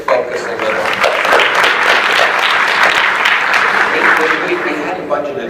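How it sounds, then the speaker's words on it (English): An audience at an education leadership event bursts into loud, sustained applause that swells and then tapers off near the end, with a voice speaking faintly beneath it. "We hadn't budgeted for applause after every comment, but I guess we'll take it."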